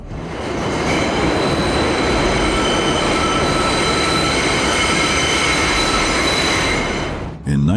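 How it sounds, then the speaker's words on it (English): Subway trains pass through the abandoned Worth Street Station in a loud, steady rumble with squealing wheels and a metallic ring. The roar holds for several seconds and then cuts off abruptly at the end. "the station remains active, with trains still passing through."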